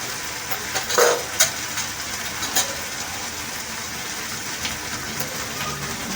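Ground turmeric, coriander and red chilli powder cooking with jackfruit in a pan for korma, a steady soft sizzle with occasional stirring scrapes and clinks throughout.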